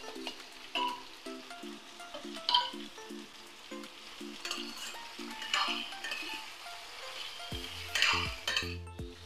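Prawns, cut into large pieces, fry in a pan with boiled vegetables for chingri dal, with steady sizzling under repeated scraping and clinking stirs, and denser knocks of utensil on pan near the end.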